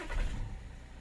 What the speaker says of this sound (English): Start the car and see if there is engine management still light on